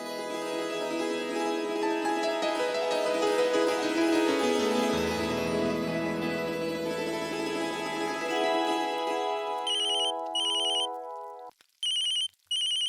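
A melodic phone ringtone plays loudly and steadily, then breaks into short repeated electronic beeps that stop and start near the end.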